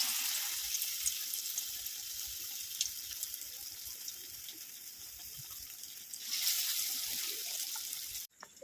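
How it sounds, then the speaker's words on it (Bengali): A steady hiss of eggplant fritters in urad dal batter frying in hot oil fills the clip, crackling continuously and growing louder near the end before cutting off abruptly. "এবার আমি বেগুনিগুলো ভাজবো"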